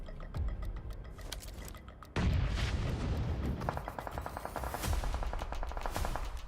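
Esports match of PUBG Mobile with heavy gunfire and explosive booms from grenades, a dense continuous barrage of rapid shots and blasts that grows louder midway, no voices over it.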